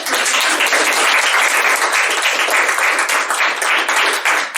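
Loud, dense applause from an audience fills the room at a university poetry prize reading at Notre Dame, sustained and even from start to finish without talk.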